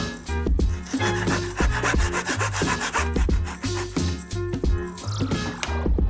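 A handsaw cuts through wood while building a walk-in closet, with rapid rhythmic back-and-forth strokes, close and loud, and no talking.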